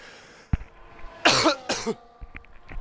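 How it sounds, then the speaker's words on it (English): A commentator at a racing event coughs twice in quick, harsh bursts, close to the microphone, with a few small clicks and faint background sounds before and after. "I can only apologise for the cough"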